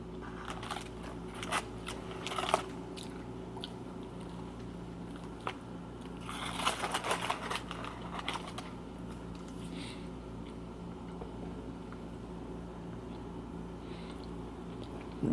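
Someone chews an Arby's bacon sandwich with chewy bacon, producing irregular crunchy bites and soft mastication clicks. A denser burst comes midway through, over a steady low background hum, with no talk.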